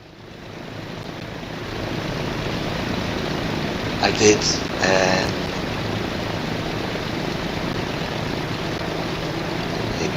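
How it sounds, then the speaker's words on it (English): In Transport Fever 2, a plane comes in on a constant broad engine wash mixed with ambient noise, moderately loud and unbroken. A voice speaks briefly over it midway. "There's a plane coming in."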